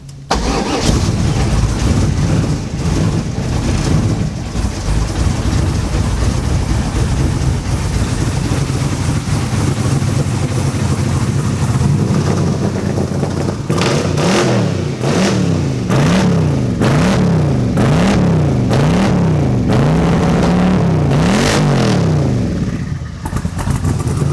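A car fitted with Holley fuel injection cranks and fires up, then settles into a loud, steady rumble with repeated rhythmic revs rising and falling near the end.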